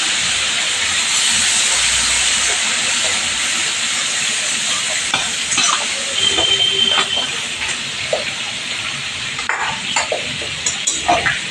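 Garlic and onion paste fries in a pan for chicken butter masala, giving a loud, continuous hiss close by with a few clinks and stirring bumps toward the end.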